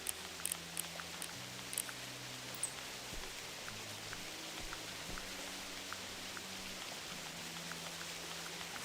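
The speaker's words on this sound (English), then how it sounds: "The rain is so loud." Rain falls in theHunter: Classic, a steady hiss with a few sharper droplet taps early on. Low sustained tones run underneath and no one speaks.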